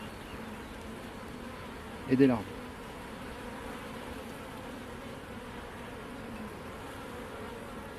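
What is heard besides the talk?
honeybees buzzing around hive frames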